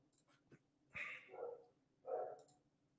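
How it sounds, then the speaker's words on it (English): A dog gives a few short, drawn-out whining howls, fairly close, in a quiet room. "I can hear my dog howling."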